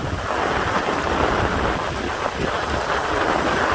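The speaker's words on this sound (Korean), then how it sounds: "정말 비가 저희 촬영이 힘들 정도입니다" Heavy rain shower with wind pours down in a dense, steady roar, close and loud throughout, with no voices.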